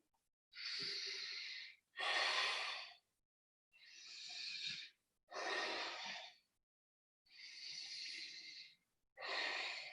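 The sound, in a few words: deep breathing during yoga pose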